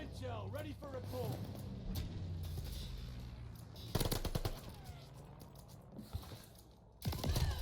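Gunfire in Call of Duty: Vanguard comes in sharp bursts, one near the start and heavier rattling volleys around the middle and the end. Scattered game clatter fills the gaps, and voices are heard talking faintly between the shots.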